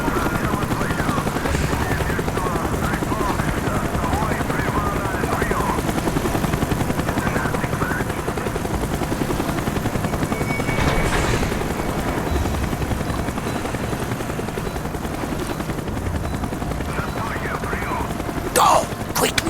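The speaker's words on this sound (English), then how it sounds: "Avoid the helicopter spotlight." A helicopter thrums overhead in Call of Duty: Black Ops, a continuous loud rotor drone under a game mission scene, with bursts of distant gunfire and a sharp sound near the end.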